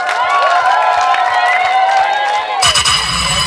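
Wedding guests in a church cheering and calling out with scattered clapping, a loud, lively crowd with high excited voices and a burst of rhythmic claps near the end.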